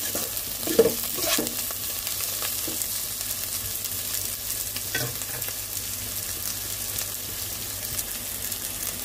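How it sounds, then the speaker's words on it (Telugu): Onions or spices fry and get stirred in a pan while cooking egg biryani, a soft continuous sizzle with occasional scrapes and clinks of a spoon, close and fairly quiet, no talk. "ఇది బాగా బ్రౌన్ కలర్ వచ్చేదాకా వేయించేసుకోవాలి."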